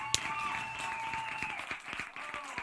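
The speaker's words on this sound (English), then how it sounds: "there's those applause" Studio audience applause welcoming a guest on a card-making show, a steady wash of clapping lasting throughout with a host's voice and tonal sounds over it.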